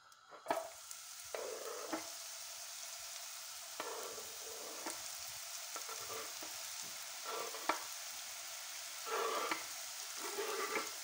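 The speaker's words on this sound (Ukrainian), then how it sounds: "викладаємо наші гриби на порізані на сковорідку" Sliced mushrooms crackle and sizzle in a hot frying pan, with intermittent scraping and stirring knocks over about eleven seconds; no one speaks.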